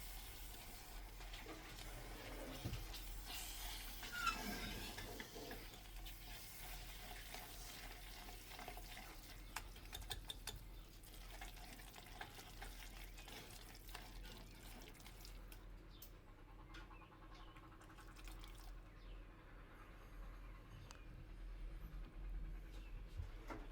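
Chopped eggplant flesh being stirred into a roux in a pan while preparing Hünkar Beğendi, giving soft, continuous wet scraping and squelching with faint sizzling, close and steady throughout with no talk.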